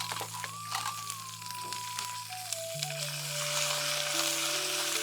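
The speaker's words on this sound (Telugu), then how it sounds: "దీనిలో కొద్దిగా కరివేపాకు వేసుకుందామండి" Curry leaves added to hot oil, giving a bright, close crackling sizzle that grows fuller toward the end, with steady tonal hums from nearby appliances underneath and no talking.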